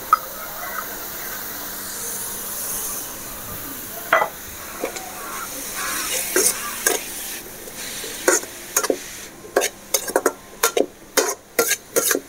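Onion and vegetables stir-fried in a pan as filling for vegetable and egg fry momos: a steady sizzling hiss, then a run of sharp spatula scrapes and clatters that quicken toward the end, close and fairly loud.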